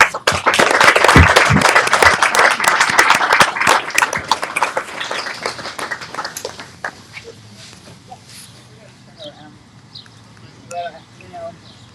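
Large crowd at a free community garden celebration bursts into loud, sustained clapping that fills the first half, then thins to scattered claps as a voice begins speaking.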